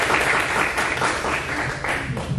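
Loud, dense applause from the audience at a Spanish-language forum on socially focused art projects, greeting a dance educator. Many hands clap steadily and close, with no voices over it.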